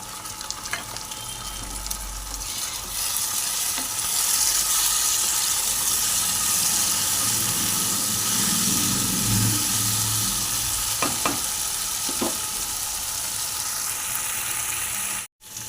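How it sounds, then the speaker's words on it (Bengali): Onion and tomato paste fry in a pan for an egg, potato and cauliflower curry, a loud continuous sizzle with occasional stirring scrapes and clinks before it cuts off abruptly. "দেখুন, পেঁয়াজ আর টমেটো মোটামুটি ভাজা ভাজা হয়ে গেছে।"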